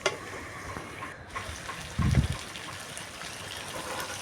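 A small splash of water poured into desi rooster chicken curry being cooked village style, a brief gurgling pour under a steady sizzling background, no talking.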